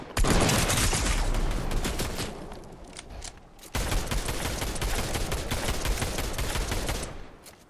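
Dense, rapid gunfire in Fortnite during a fight, loud and continuous bursts of shots with a brief dip midway before the firing resumes just as intensely.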